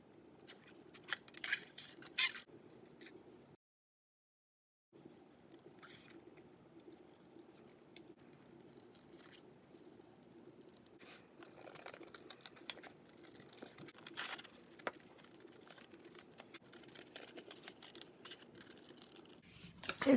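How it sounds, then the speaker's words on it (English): Scissors snip through black cardstock for a scrapbook page, a steady string of small close crisp cuts and rustles with a brief silent gap early on, no talking. "Okay guys, let's start cutting."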